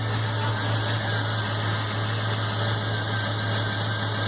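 A truck's engine runs with the AC compressor engaged, producing a steady, loud mechanical hum and whine with a constant low drone and no variation or voices.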